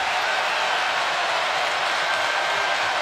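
A basketball arena crowd cheering for North Carolina in a home game against Miami, a steady, dense roar of voices filling the whole clip with no breaks.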